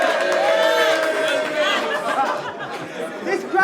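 Crowd at a rap battle making noise, a loud burst of mixed shouting, cheering and chatter that stays busy throughout and thins slightly toward the end.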